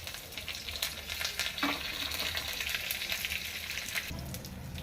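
A tempering of garlic, two chillies and curry leaves frying in hot oil for Andhra coconut peanut chutney, a steady close sizzle with scattered crackles and occasional stirring scrapes, fairly quiet.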